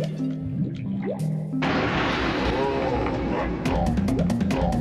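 Water in Donkey Kong 64 bursts into a broad, noisy rush and splash after a few drip-like notes, with repeated sloshing hits continuing near and loud.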